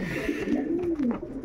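A racing pigeon coos close by in a loft, a soft, rolling, throaty call with a rising and falling pitch, heard alone.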